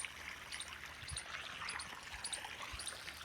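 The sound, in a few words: irrigation water flowing into farm channel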